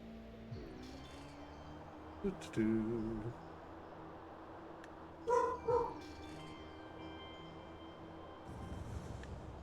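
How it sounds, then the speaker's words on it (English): A pet dog barks in the background of a house in two short bursts, muffled and moderately distant, while a person keeps talking nearby. "That's my dog's bark in the background because my sister just got home."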